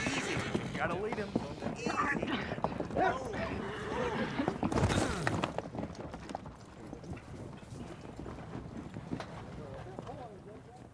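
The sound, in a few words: horse hooves and whinny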